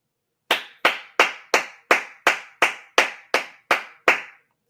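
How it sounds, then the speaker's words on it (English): Eleven sharp, evenly spaced claps ring out close and alone in a steady rhythm, with silence between each one. "Clap it up."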